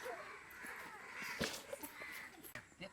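A crow caws in faint, repeated calls over a low background hum, with no speech.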